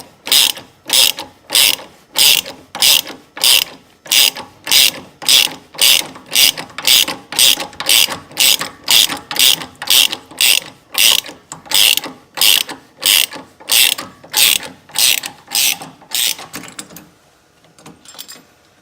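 A ratchet wrench clicks steadily as it tightens a 19 mm nut to pull the body of a VW Autostick oil pump, giving about thirty evenly spaced, close, crisp bursts that stop near the end.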